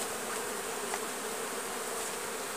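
Honey bees at an open beehive give a dense, steady, close buzzing hum that continues throughout with no pauses.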